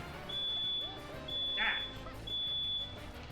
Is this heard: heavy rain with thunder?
no